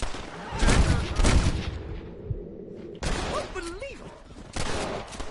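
Rapid gunfire in Red Dead Redemption aimed at a bear, loud bursts of shots in two volleys beneath excited shouting voices.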